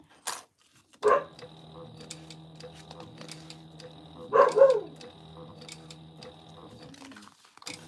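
Beagle giving two short, sharp barks or yelps a few seconds apart, heard at a distance over a quiet room hum.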